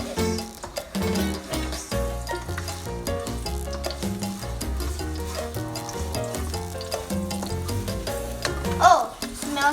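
Garlic fries in a pan for salmon fried rice, a soft, steady sizzle running underneath louder tonal music for the whole stretch.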